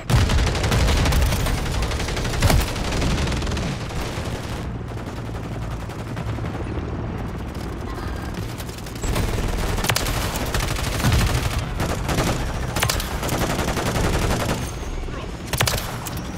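Call of Duty gunfire: rapid automatic bursts and sharp individual shots crackle close and loud, with brief lulls between volleys and busy battle noise underneath.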